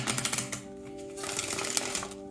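Tarot cards being shuffled by hand, a quiet, close riffling and flicking patter of card edges in uneven bursts, with faint background noise.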